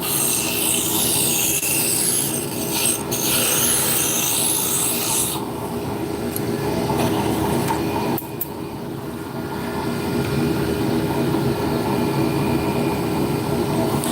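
A wood lathe runs at full speed turning a small square-stock drop spindle, a loud steady whir with tool rubbing and scraping against the spinning wood, changing in tone partway through.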